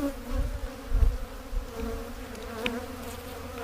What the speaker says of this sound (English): So I see new bees roaming because I did put a frame of cat brood